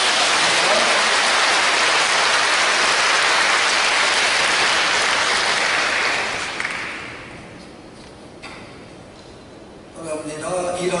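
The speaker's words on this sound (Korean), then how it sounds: "십자가에 박수합시다." A church congregation applauds at a worship service, a loud, dense burst of clapping for about six seconds that then fades into quieter room noise.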